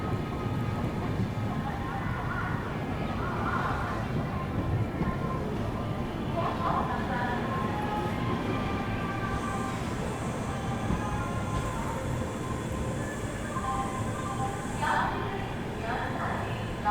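From inside the 12826 Jharkhand Sampark Kranti Express as it pulls into Ranchi Junction, a steady, heavy rumble of the moving train continues without pause, with someone talking over it.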